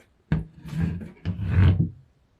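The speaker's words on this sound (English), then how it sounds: "I had some trouble folding it down one-handed." A Romanian Combloc folding knife with a hefty bolt, freshly oiled, is worked closed in two handling bursts: a sharp click followed by stiff rubbing, scraping friction, close and fairly loud against a quiet background.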